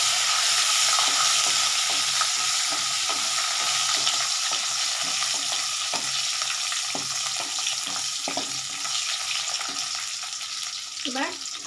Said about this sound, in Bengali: এবার একটু নাড়তে থাকবো।